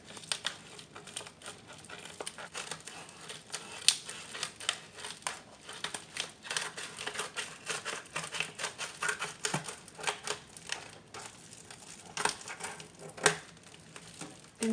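A package is cut and opened with scissors in a quiet room, a steady run of close crinkling, snipping and rustling of packaging with no talking.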